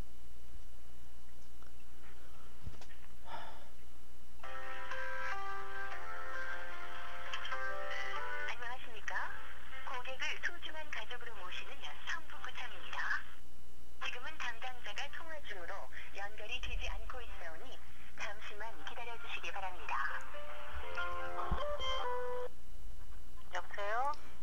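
A telephone call to a public welfare office is being connected, with a ringing and hold tone pattern in repeated bursts over a low line hum, lasting well over twenty seconds.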